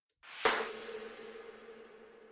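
One sharp slap-like drum hit, an ass slap sample from a pop drum programming session, rings out through a long, bright reverb tail that fades slowly, with no voices present.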